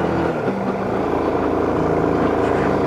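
Car engine in second gear climbing a steep road toward Mossy Forest in Malaysia, a steady loud labouring drone that holds evenly throughout, close and with no pauses.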